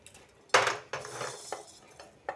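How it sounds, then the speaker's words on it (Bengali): Whole spices such as cumin, fenugreek, mustard seed and carom being dry-roasted in a pan for olive pickle, heard as close metallic scrapes and clinks of a stirring spoon in a few irregular strokes. "যা চালের মশলা ভাজছি"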